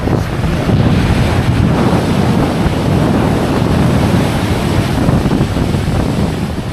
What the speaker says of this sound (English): The waves are like 3-4 seconds apart at the most.